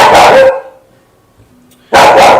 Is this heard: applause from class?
no